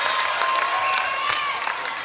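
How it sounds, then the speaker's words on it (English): Crowd at a netball grand final at the Bendat Basketball Centre, a dense, sustained crowd roar that carries a chant right through, with no talk over it. "it's an appropriate chant from the crowd"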